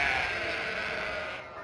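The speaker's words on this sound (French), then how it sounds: "On entend les brebis." A flock of sheep bleats continuously in a dense, overlapping chorus on a farm near a slaughterhouse, loud and steady throughout.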